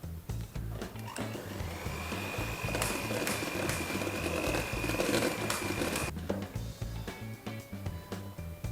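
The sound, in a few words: electric whisk mixing butter for Jammie Dodger dough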